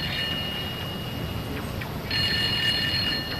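A telephone rings in a Hindi cartoon, its faint repeated electronic trill swelling louder near the end over a steady background hiss.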